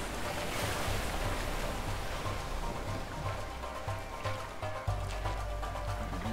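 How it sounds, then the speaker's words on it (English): Loud, continuous rushing water roars near a waterfall in the video game A Way Out, a dense wash of surf-like noise with low rumbling pulses and no talking. "Waterfall."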